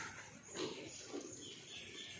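A sick pig on a farm grunts twice, low and faint, with a short gap between, under a soft constant background hiss.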